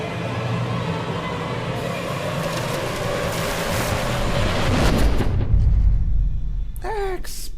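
A deep, booming explosion in the DmC: Devil May Cry Vergil's Downfall DLC swells over a dense, rumbling game soundscape, with a low blast peaking near the end before a brief high screech.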